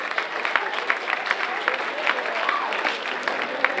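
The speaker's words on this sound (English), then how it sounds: "Clap for them." An audience at a school assembly claps for the girls basketball team, with a steady patter of scattered hand claps that stays fairly even and moderate in loudness, with a few voices mixed in.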